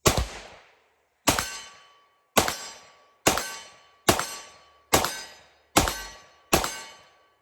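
Eight sharp, loud pistol shots from a 10mm Colt Delta Elite firing SIG Elite ammo, spaced about a second apart, each with a bright crack and a quickly fading ringing tail, no talking.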